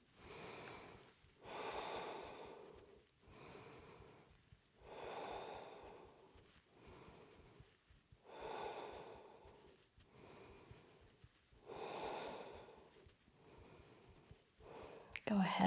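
A yoga practitioner breathes slowly and deeply while holding a high lunge in a vinyasa session, with about seven long, even inhale and exhale cycles, close and soft, heard on their own.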